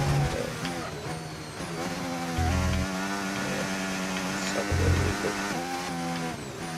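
Race car engine on the Silverstone circuit in a racing video game, a steady droning whine with shifting pitch and brief low gear-change bumps, heard throughout at constant loudness with faint talk underneath.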